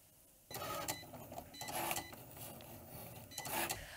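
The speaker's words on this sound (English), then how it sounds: "I'll just hit the go button here and it'll cut out my design" Cricut cutting machine cutting a design for a custom tote bag runs with a steady mechanical whir, punctuated by repeated carriage movements and short buzzing strokes, close and fairly quiet, with no talking.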